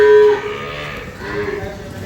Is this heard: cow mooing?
yes